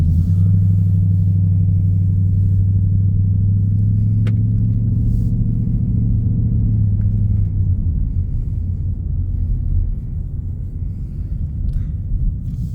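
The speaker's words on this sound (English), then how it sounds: "put it in drive, and we'll take this for a little spin" A 2022 Ford Mustang GT in copper blue pulls away and drives, its deep, steady V8 rumble loud and close from inside the cabin, easing to a lower, rougher drone partway through, with no talking.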